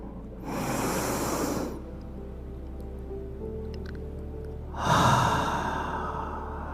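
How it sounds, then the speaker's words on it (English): Two deep, slow inhales through the nose during a guided breathing exercise, each a long close airy rush lasting over a second, separated by a quiet pause with faint room tone. "And another inhale."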